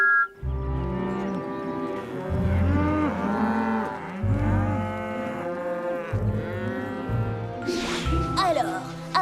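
Several loud, drawn-out cartoon cow moos from a farm, low and droning, follow one another across the whole stretch with brief gaps, and some higher tonal sounds and a bright burst come near the end.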